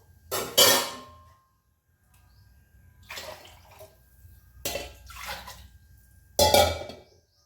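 Water poured from a glass into a pot of mixed vegetable and pea soup, heard as four separate splashing pours with short quiet gaps between them, fairly close and with no talking.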